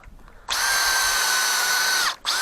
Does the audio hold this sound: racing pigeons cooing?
no